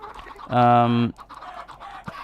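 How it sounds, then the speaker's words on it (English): A Minecraft chicken gives a single short, tonal cluck, clear and close, over faint background clicks and sounds of game play. "I needed the chicken to go this way, so I've had to do this little zigzag pattern here"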